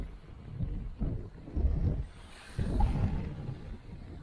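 Strong wind buffets the microphone in heavy, rumbling gusts at a Florida state park by the water, rising and falling with a faint hiss between the blasts.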